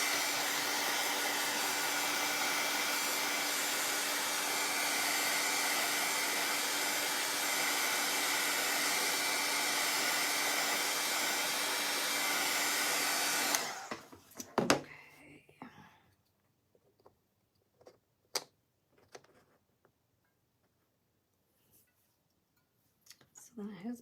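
A hair dryer blows steadily and loudly on a painted gnome hat for about fourteen seconds, then shuts off, leaving soft scattered clinks and small handling knocks.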